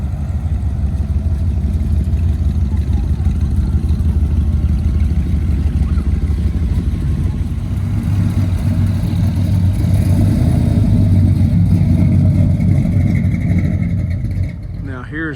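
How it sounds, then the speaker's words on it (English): A 1957 Chevy cruises past at an outdoor car show, its engine a steady, loud low rumble that swells as it draws nearest and fades at the end, with the murmur of the crowd in the background. "And we got a 57 Chevy following him out here."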